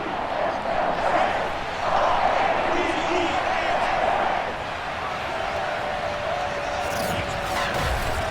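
Crowd noise at a Baltimore football stadium in Madden NFL 22, Ravens versus Bengals, a steady roar filling the clip beneath commentators talking.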